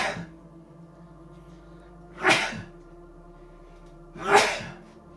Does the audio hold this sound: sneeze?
yes